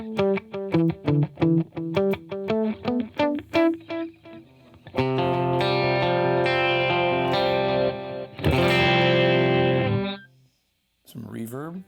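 An electric guitar played through a Tonex pedal with delay: a quick run of repeated picked notes gives way to sustained distorted chords that ring out, echoing repeats trailing before a short gap and a final strum.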